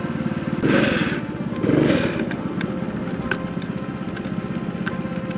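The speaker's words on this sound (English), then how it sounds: "And I'll have full throttle here." A homemade fat-tire drift trike's small engine opened to full throttle, a loud close buzzing rev that surges twice then holds a steady rattly drone.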